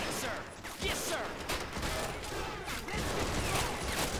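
Machine gun fire in the Men of War Assault Squad game, a dense continuous clatter of rapid shots and battle noise, loud and unbroken throughout, with speech buried underneath.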